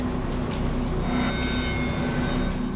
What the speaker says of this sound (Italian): Il treno scivola nell'oscurità.